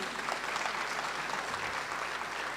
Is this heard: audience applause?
yes